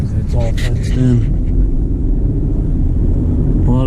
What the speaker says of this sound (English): A lot of trucks going in and out.